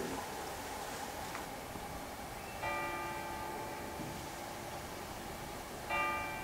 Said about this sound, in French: j'entends des cloches